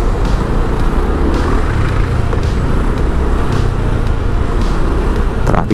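Dense road traffic on EDSA near a U-turn slot in Metro Manila forms a loud, steady roar of car and truck engines and tires, continuous with no gaps.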